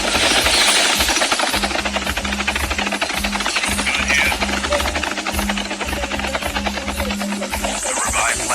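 Helicopter in the battle royale mode of the mobile game Call of Duty Mobile, a loud, steady, rapid thumping of rotor blades over a constant engine roar.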